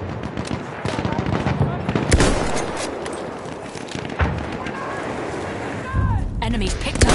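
Machine gun fire in Battlefield 1 multiplayer, dense rattling bursts that keep going amid explosions and other battlefield noise, with in-game voices calling out over the fighting.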